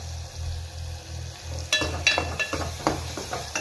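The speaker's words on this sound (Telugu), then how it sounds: "దీంట్లో వచ్చేసి నూనె పోసుకొని ఉల్లిగడ్డలు, టమాటాలు, పచ్చిమిర్చి ఇలా వేయించుకుంటున్నాను చూడండి." Onions, tomatoes and green chilies frying in oil in a pot: a soft, steady sizzle, then a few scraping stirs in the second half, close but fairly quiet, with no speech.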